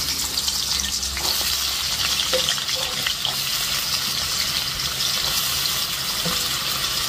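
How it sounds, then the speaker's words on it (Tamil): Potatoes deep-fry in boiling oil, a loud, dense, continuous hiss and bubbling that stays close and steady throughout. "இப்ப நாங்கள் கொதிச்ச எண்ணெய்க்குள்ள உருளைக்கிழங்கத்தான் போட்டு பொறிக்க போறோம்"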